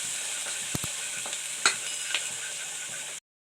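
Whole spices, cinnamon and cloves, sautéing in an oil-filled pan for chicken biryani, a steady close sizzle with a few sharp pops and light stirring clicks, no voices.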